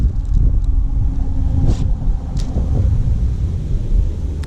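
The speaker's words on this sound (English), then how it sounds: "A little windy" Steady wind gusting outdoors on a fishing outing, a constant low rumble buffeting the microphone throughout with brief higher whooshes, loud and continuous with no talking.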